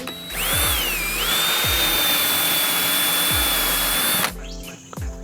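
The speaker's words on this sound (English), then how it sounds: "I'm gonna drill out all 4 corners." A power drill bores through a corner while fitting a MaxxAir MaxxFan, with one long, loud, steady whine close by and a few knocks, then it cuts off.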